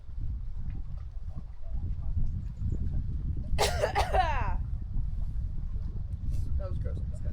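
A short burst of coughing from a hiker on a windy Algonquin backpacking trip, a few harsh close coughs over a steady low rumble of wind gusts.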